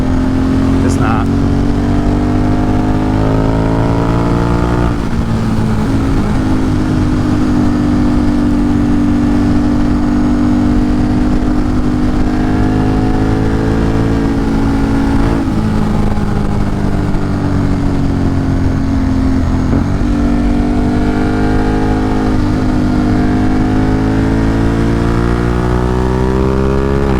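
A motorcycle engine on a fast forest ride revs up and down through repeated gear shifts, loud and close throughout, with a person talking over it.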